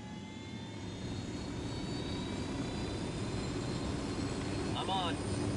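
Steady, loud aircraft engine drone in Ghost Recon Wildlands fills the whole stretch without a break, with a brief voice rising over it near the end.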